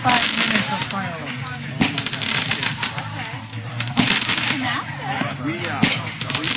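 July 4th fireworks keep popping and crackling at close to middle distance, with a few louder bangs standing out over a dense background of bursts while people talk nearby.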